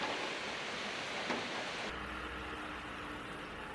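Heavy rain pouring down at L'Isle-sur-Tarn, a dense continuous hiss that stays steady and fairly loud throughout, with no voices over it.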